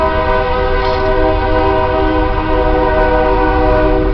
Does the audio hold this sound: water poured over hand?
no